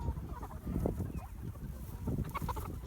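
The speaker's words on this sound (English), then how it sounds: "Should we give the hens some food?" Hungry hens clucking close by on a grazing farm, a steady jumble of soft overlapping clucks and low murmurs with no talk.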